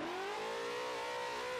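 Ford Mustang mod engine in Assetto Corsa held in second gear, a steady rising drone that climbs in pitch as it revs, close and alone with no talk.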